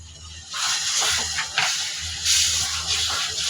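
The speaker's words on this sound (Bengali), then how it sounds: "এখন আমি এই তেলের ভিতরে আমি এই যে আমগুলি ঢেলে দিলাম।" Loud hissing sizzle erupts as mango pieces hit hot oil with fried onions while making pickle, rising sharply, then steadying into continuous frying with a second surge near the end.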